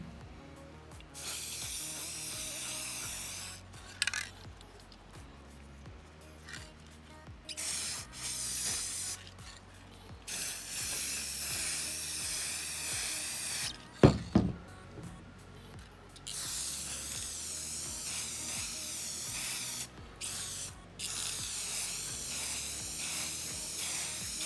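Spray can misting clear coat onto lightsaber parts in several bursts, hissing on and off in a steady rhythm with short pauses between passes, close by, faint mechanical clicks between, no talking.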